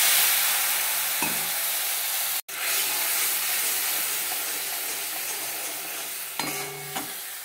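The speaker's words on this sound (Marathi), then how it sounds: "पाणी आटेपर्यंत हे हलवत राहायचं आहे।" A spoon stirs masala, mustard seeds and cumin with added water in a hot pan, giving a continuous hiss and sizzle with occasional scraping bursts and no talking.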